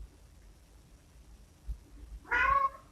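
A single clear meow from a house cat, close and fairly loud, rising briefly near the end after near silence with faint thumps.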